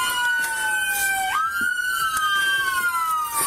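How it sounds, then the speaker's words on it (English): A Little Rock police car siren wails loudly and continuously, its pitch sweeping up and down, close by with no other sounds breaking through. "Go turn that siren off."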